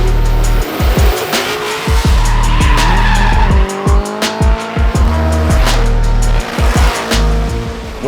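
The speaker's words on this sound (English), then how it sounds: "The guys today are shutting down a section of Canyon Road and they're gonna send a bunch of drift cars up." Drift cars skidding up a closed-off section of canyon road in Kentucky, with loud screaming tire squeal and revving engines rising and falling in repeated bursts, very close.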